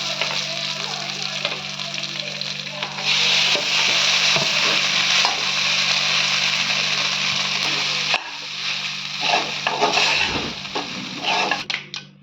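Curry leaves and green chillies sizzle in hot oil in a pan, a loud continuous frying crackle that swells after a few seconds, with occasional stirring clinks and a brief pause before resuming.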